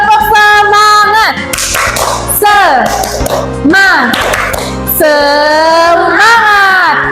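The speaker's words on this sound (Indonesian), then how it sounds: "langsung saya tepuk semangat" A classroom of children chants a rhythmic 'tepuk semangat' cheer, loud sung voices interrupted by bursts of brisk group clapping in repeating patterns.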